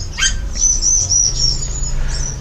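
A songbird native to Sukabumi sings a high, thin, sustained whistling phrase, close and clear over a low background hum.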